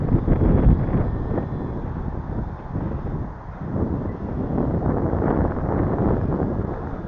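Moderate wind of about 15 km/h blowing outdoors during a small model aircraft flight in windy weather, a steady, rough low rumble buffeting the microphone that continues without pause.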